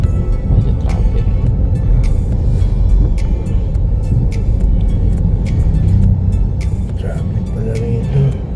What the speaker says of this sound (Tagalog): Traffic pala rito.